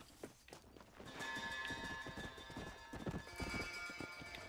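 Horse hooves clip-clopping in the Western video game Red Dead Redemption, a steady walking rhythm of clear hoofbeats with a brief whinny, heard alone without talk.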